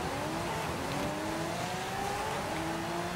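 A 2012 Lamborghini Aventador LP 704 with its V12 engine in Forza Horizon 5 drag racing: a loud, continuous high-revving engine wail whose pitch climbs steadily through the gears.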